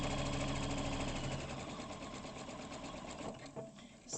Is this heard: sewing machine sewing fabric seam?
yes